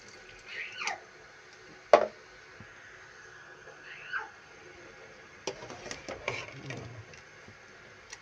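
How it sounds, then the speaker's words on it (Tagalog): Cold water poured over cooked, boiled sago (tapioca) pearls in a pot, heard as a few brief, fairly faint splashes and trickles spread across a quiet kitchen background. "And then buhusan ulit natin ng malamig."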